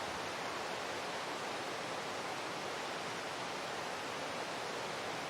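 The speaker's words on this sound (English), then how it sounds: "I hope you can hear the river there." River Tilt at Blair Atholl, Perthshire, flowing as a steady, broadband rush of water, continuous and even throughout, with no voices over it.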